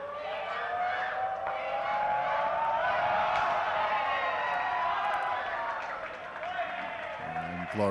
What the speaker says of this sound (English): the crowd really getting behind the Sri Lankans, looking to get them a wicket